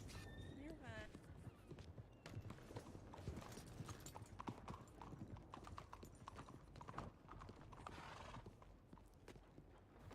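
Horse hooves clip-clop at a steady walking rhythm in a Wild West roleplay game, close and continuous, with a brief whinny near the start and people talking over it.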